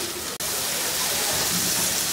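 Sliced ginger and garlic fry with tomatoes in a pan for Southern-style mustard greens, making a loud, steady, close sizzle and hiss with one brief click near the start.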